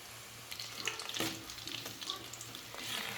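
Pieces of cauliflower chilli fry in hot oil with a soft, steady sizzle and scattered light crackles throughout, fairly quiet and with no talking.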